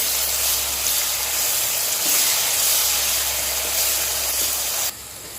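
Onions frying in a pan for prawn dum biryani, a steady close hiss and sizzle running continuously before dropping quieter near the end.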